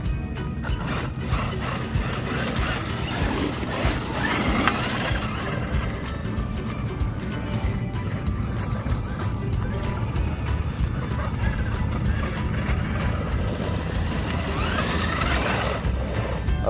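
A Traxxas Unlimited Desert Racer RC car on a 4S setup runs hard, its motor and drivetrain giving a continuous loud whine with rattly gear noise and shifting pitch as it accelerates across the ground.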